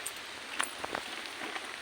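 Rain falls steadily outside a home where tea is being served, a soft, even hiss with a few scattered louder drops, fairly faint and with no voices.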